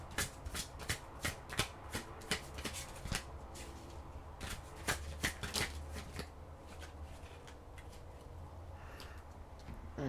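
Deck of tarot cards being shuffled by hand, close and soft, with quick riffling bursts and sharp card snaps in an irregular rhythm, paused briefly partway through and then resumed, with no talk.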